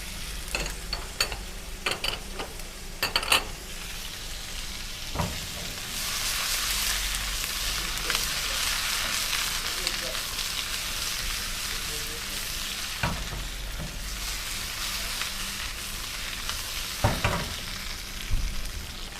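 Peppers and tomatoes hitting a hot frying pan, a steady close sizzle and fry with occasional stirring clatter and utensil taps, alone without talk.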